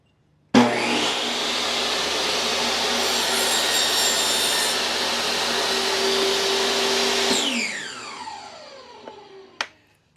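A saw rips through wood with a steady, loud, close whine for about seven seconds, cutting a piece for a beehive entrance reducer against a fence, then winds down with a few light clacks at the end; no one speaks.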